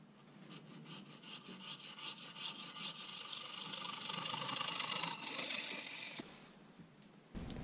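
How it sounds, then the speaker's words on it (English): Sandpaper rubbing by hand inside the ends of carbon fibre tubes, a rapid rhythmic rasping scrape that runs steadily and close before stopping abruptly. "Now I'm roughening the inside of the ends of the tubes with a piece of sandpaper just to provide a key for the adhesive."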